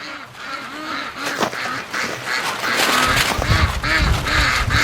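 Ducks quack repeatedly and close by, a busy flock calling over gusty wind, with the noise growing denser and louder partway through.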